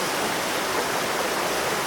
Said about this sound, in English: the river has burst its banks. It's creating this very dramatic flow of the water, making the waterfalls and the rapids even more dramatic